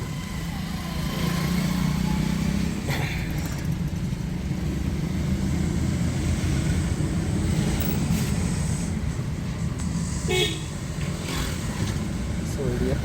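A Chevrolet Beat diesel car with a fuel rail pressure fault runs while driving, a steady low engine and road rumble throughout, with a voice talking over it and a few brief knocks.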